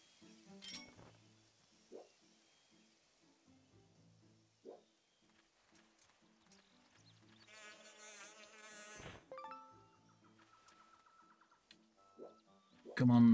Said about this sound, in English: Aha, all the bees.